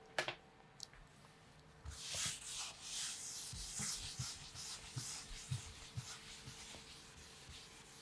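Rubbing strokes wipe writing off a board during a statistics class, a quiet, close scrubbing that starts after a short pause and continues in uneven passes.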